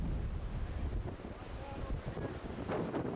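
Strong headwind gusting across a disc golf course during the Wyoming Classic, a loud, rumbling roar buffeting the microphone in uneven surges.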